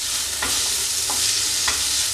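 Tomato pieces and curry leaves stirred into a sizzling masala in a hot pan, a steady close frying hiss with a few soft spoon scrapes, no voices.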